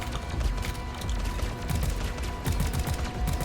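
A flare gun fires repeatedly in a shooter video game, a dense, loud barrage of rapid overlapping bangs and crackles that runs without pause, heard up close.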